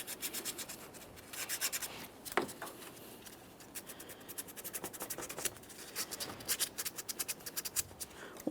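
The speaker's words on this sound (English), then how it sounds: "I'm going to use some sandpaper, make sure I have a clean contact point" Sandpaper rubbed over a contact point while fitting a front lower control arm on a 2014-2019 Toyota Corolla, quiet close rhythmic scratchy strokes in short bursts, alone.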